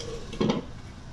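A lid set down onto a pot of pilau rice cooking over low heat, one short clatter rising briefly above a steady background hiss.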